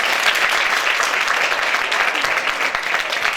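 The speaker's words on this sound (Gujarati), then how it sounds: "અમારી કોલેજમાં પધારેલી આ તમામ દીકરીઓને આપણે તાળીઓથી વધાવી લઈશું" An audience at a 2015 college annual cultural program applauds to welcome the performing girls, a thick, sustained round of clapping from a large crowd lasting over three seconds.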